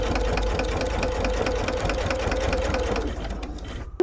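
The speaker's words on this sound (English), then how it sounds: "And again, I'm going to back stitch." A sewing machine back stitches a bag seam, a fast steady mechanical chatter close by that runs evenly, then slows and stops near the end with a final clunk.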